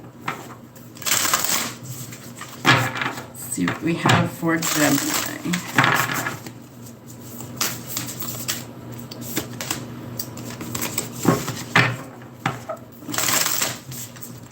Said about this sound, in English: I have trouble shuffling some days and the cards definitely are slipping all over the place